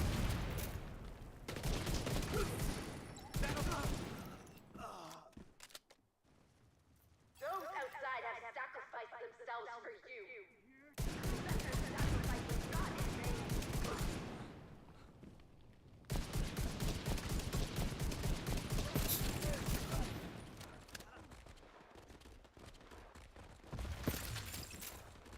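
Sustained machine gun fire in The Division 2 shooter game, long rapid bursts of loud rattling shots separated by short pauses, with speech and game sounds heard between bursts.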